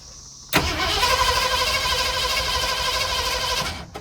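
An abandoned 1970 Ford Mustang V8, run again after decades, cranks and catches, then roars steadily at a loud, close, raw idle with a buzzy exhaust tone before cutting off near the end.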